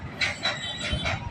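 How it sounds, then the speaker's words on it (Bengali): A train slowly pulling out of a station on the line toward Mongla, with soft wheel squeals and rail rumble rising and falling in several short pulses, fairly close. "ট্রেনটা খুব স্লোভাবে যাচ্ছে।"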